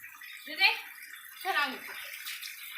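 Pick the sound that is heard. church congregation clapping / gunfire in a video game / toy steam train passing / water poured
water poured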